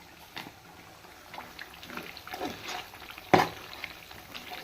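Ginger paste and prawns cook in a pan with a soft, wet sizzle and bubbling, interrupted by a few faint stirring scrapes and one louder clack near the end, with no speech.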